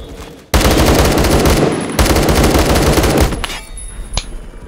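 Loud sustained automatic gunfire in the Roblox shooter Phantom Forces, two long rapid bursts close up, then trailing off into a few scattered shots.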